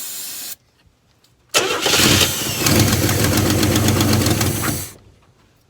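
A stiff car engine that had been jacked up cranks and catches, running loud and rough for about three seconds up close before dying away, with a short idle-like rumble before it.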